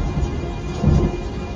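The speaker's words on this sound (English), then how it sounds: "a great peal of thunder" Deep rolling peal of thunder, a sustained low rumble swelling near the middle of a short stretch of storm noise with faint rain texture, no voices.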